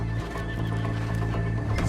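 A horse in the video game Red Dead Redemption 2 gives a loud, close whinny that carries through the brief moment, with hoof clip-clop and a steady game ambience underneath.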